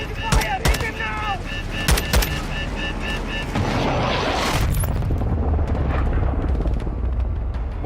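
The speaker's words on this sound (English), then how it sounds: "Enemy missile locked. He's going to fire." Enemy missile fire and explosion in the Modern Warfare 2 campaign: sharp, cracking shots and bangs early on, then a loud, sustained rumbling blast that fills the rest of the clip.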